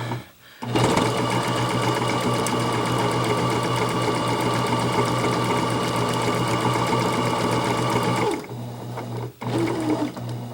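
A sewing machine stitches back and forth over elastic on a homemade fabric face mask, a steady close whirring run of several seconds that stops, then restarts briefly.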